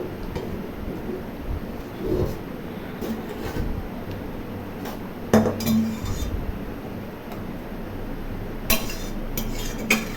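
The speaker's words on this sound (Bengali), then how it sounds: "এখন কড়াই ভালো করে ধুয়ে কড়াই গ্যাসের উপর বসিয়ে দেবো।" A wok being washed and set on a gas stove gives irregular metallic clanks and clinks, scattered through a soft background with a few sharper knocks near the end.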